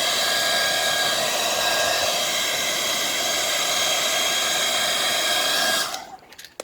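A heat gun blows hot air onto vinyl wrap on a car's front bumper, a steady close whooshing roar that holds evenly for about six seconds before cutting off.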